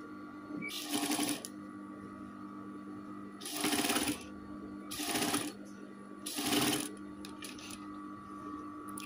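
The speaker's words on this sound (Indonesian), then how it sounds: "Ini dijahit dari luar ya." Sewing machine stitching trim onto a striped gamis garment, four separate runs of rapid mechanical whirring, each a second or so long, with quiet pauses between.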